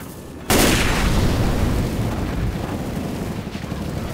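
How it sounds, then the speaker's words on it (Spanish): Fire roaring loudly in Left 4 Dead 2 after a sudden burst, with a dense crackling rumble and scattered small explosive pops that continue steadily and fade slightly. "Mientras que esto arde y a la vez hace unas pequeñas explosiones"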